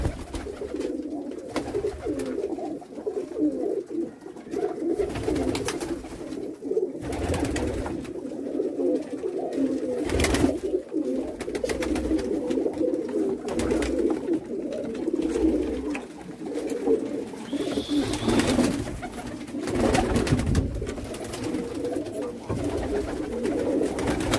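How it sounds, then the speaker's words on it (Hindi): Many large show pigeons coo continuously at a pigeon sale, a low throaty burbling chorus close by that carries on without pause. "काफ़ी बेहतरीन और बड़े कबूतर आए हैं"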